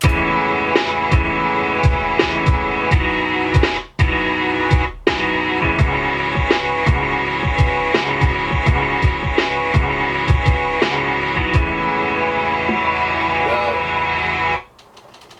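A punchy hip-hop drum pattern of kicks and snares repeats steadily over a looping melodic sample, loud and upfront, cutting out near the end.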